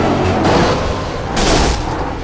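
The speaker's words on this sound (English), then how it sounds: "And that sound right there, folks, blown engine for the number 4." The number 4 race car's engine blows during a stock car race at Iowa Speedway, giving loud, close bursts of popping and booming in two surges.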